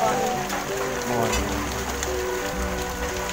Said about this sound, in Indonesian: wih, hujan sik nambah adem ayo.